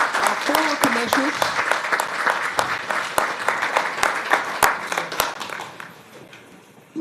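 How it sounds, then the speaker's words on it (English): Applause from a crowd at a city commission meeting, with sharp individual claps standing out over the wash, a voice briefly audible at the start, fading toward the end. "another round of applause for our three commissioners, our four commissioners."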